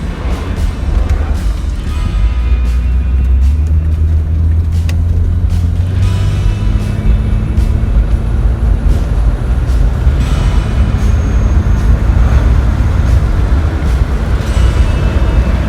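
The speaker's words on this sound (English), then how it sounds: "See if you can hear this transmission shifting." Engine and drivetrain of a Jeep WJ driving on a neighborhood road as its transmission shifts through gears, a steady loud low rumble with road noise throughout and no talk.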